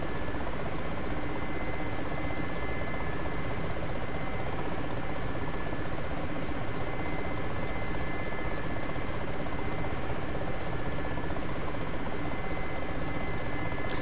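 Mi-8 utility helicopter in cruise flight in the DCS simulator, a steady dense rotor and turbine roar with a constant whine, loud and unbroken throughout with no voices.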